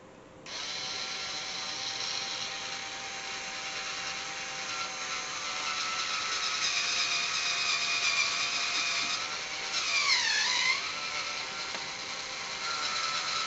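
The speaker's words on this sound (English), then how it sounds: "we will drill a hole there and call it done" A power drill bores a hole for a homemade top-down camera rig, a sustained, close, whining motor drone running for several seconds, dipping briefly in pitch near the end as the bit works through, with no talk.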